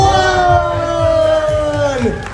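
A barber battle crowd cheers and whoops loudly after the countdown ends, a long sustained shouted voice riding over the noisy audience roar.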